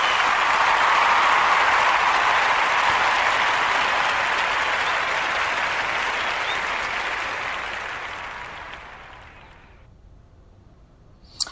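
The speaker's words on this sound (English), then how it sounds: "Let's give a round of applause to the Black and Missing Foundation." Sustained applause from a live audience at an evening broadcast event, loud and dense at first, then gradually thinning and fading out toward the end.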